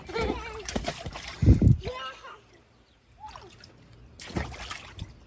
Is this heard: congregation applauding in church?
no